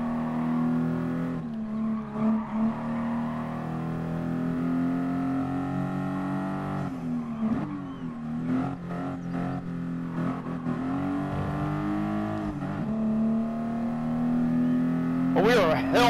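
A Toyota Supra race car in Gran Turismo Sport drones at a steady engine pitch that rises and falls with shifts and throttle lifts, with a brief tire squeal near the end, while a person talks over it.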